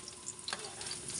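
Garlic and ginger sauté in a pan as the base for Filipino chicken tinola, a faint, even sizzle with a soft stirring swish partway through.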